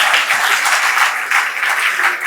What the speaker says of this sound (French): Applaudissez, monsieur.